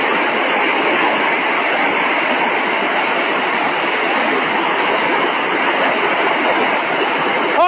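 Deep flood water rushing through Oroquieta City streets, a loud, dense, continuous roar and hiss, close and unbroken throughout.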